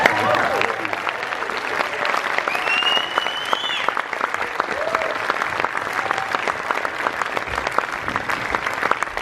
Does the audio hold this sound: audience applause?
yes